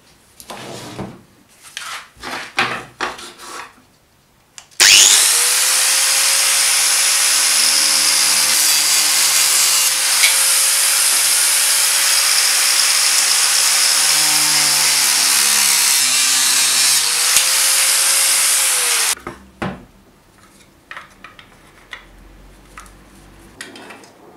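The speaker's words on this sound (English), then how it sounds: "I'm going to chop off the head of the drill" A loud, steady high-pitched grinding whine of a cutting tool cutting the head off a drill runs for about fourteen seconds, framed by quieter handling clatter before and after.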